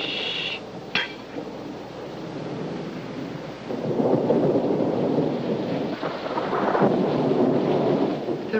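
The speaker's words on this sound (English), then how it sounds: "The rain. It's not too heavy, Miss Helberg." Moderate rain falling with a low rumble of thunder swelling midway, steady and broad, with a couple of faint clinks near the start.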